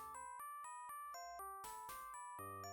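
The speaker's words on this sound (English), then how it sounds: "I'll listen for the doorbell for a second or two." A doorbell rings in the DOS horror game Darkseed: a series of clear, bright chime tones ding-dong in sequence over a low synthesized backing, loud and close with no talking.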